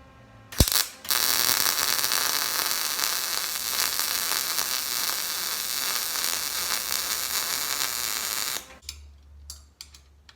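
A bolt is welded onto a radiator mount, giving a loud, continuous crackling buzz that starts after a sharp click, runs about eight seconds and then stops, leaving a low hum and a few clicks.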